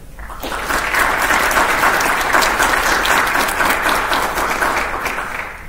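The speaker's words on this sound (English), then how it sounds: "Please give a round of applause to the parents, spouses, families, and friends of the soldiers gathered here today." Audience at a military graduation ceremony for 1/78th FA Battalion soldiers applauding families and friends, a loud sustained round of clapping that swells in and tapers off at the end.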